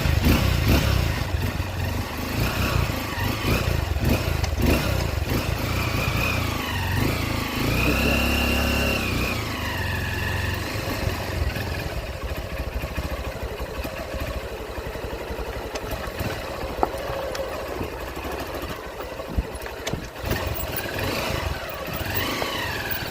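Honda XR150L motorcycle ridden on the road, its small single-cylinder engine droning and rising and falling with the throttle, with steady wind noise and occasional clatter close to the rider.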